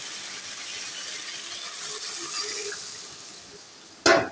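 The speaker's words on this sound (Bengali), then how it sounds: "ঝোলের পানি দিয়ে দিলাম" Water is poured into a curry cooking in a pan, giving a soft, steady watery hiss at close range. It ends with a brief, sharp splash or clatter, and no one speaks.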